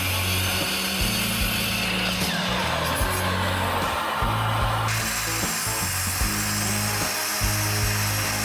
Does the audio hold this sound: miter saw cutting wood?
yes